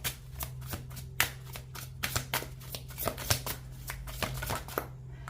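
Oracle cards are shuffled close up in a crisp, rapid series of riffling slaps and soft card flutters, with irregular bursts over a quiet room hum. The shuffling ends with a brief pause.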